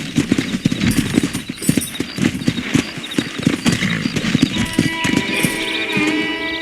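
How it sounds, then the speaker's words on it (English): Rapid hoofbeats of several galloping wild horses in the video game Red Dead Redemption pound in an irregular rhythm, with sharp cracking bursts and a steady background hum toward the end. "there's a pack of wild horses nearby"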